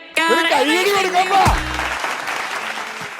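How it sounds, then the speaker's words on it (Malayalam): An outdoor crowd at a football road show in Angamaly claps. A loud voice speaks first, then a broad, fading burst of applause follows. "കൈയടി കൊടുക്കാം."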